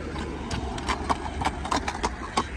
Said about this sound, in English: That's a big old horse